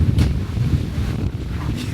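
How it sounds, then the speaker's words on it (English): Strong wind roars and buffets the microphone continuously on a road trip near Sveti Stefan and Budva, Montenegro, a loud low rumble with gusty surges and no other clear sounds. "Wind right now, it's crazy. I wish you could see how windy it is."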